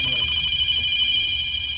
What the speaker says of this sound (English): Whose phone is that? Not mine.